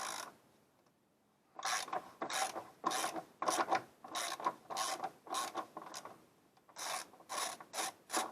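Ratchet with a long extension turning the battery hold-down clamp bolt on a PT Cruiser, a string of close, rasping clicking bursts in quick rhythmic runs after a brief quiet start.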